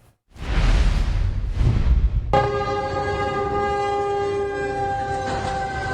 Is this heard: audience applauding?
no